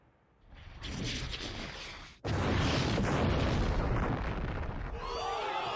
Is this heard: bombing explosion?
yes